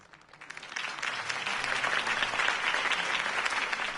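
A crowd breaks into loud, sustained applause in a Batman video game, dense clapping that swells quickly and holds steady throughout.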